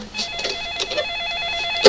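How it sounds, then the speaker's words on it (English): A telephone rings with a repeated electronic trill, fairly close and clear, ending in a brief louder clunk. "she groped her way towards the ringing"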